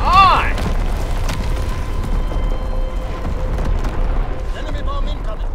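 Heavy bomb explosions in the World War II shooter Call of Duty WWII, deep rumbling booms rolling under battlefield noise, with a brief radio-like tone and clatter near the start and end.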